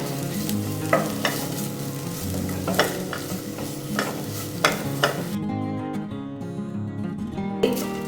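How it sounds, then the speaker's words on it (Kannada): Onion and garlic frying in coconut oil, stirred with a steady broadband sizzle and periodic scraping clacks of the spoon against the pan, close and moderately loud, for a chicken sukka. "ಈರುಳ್ಳಿ ಹಾಗೇನೆ ಬೆಳ್ಳುಳ್ಳಿದು ಹಸಿ ವಾಸನೆ ಹೋಗಿ ಸ್ವಲ್ಪ ಬಾಡಬೇಕು, ಅಲ್ಲಿ ತನಕ ಸ್ವಲ್ಪ ಹುರಿತಾ ಇದ್ದಾನೆ."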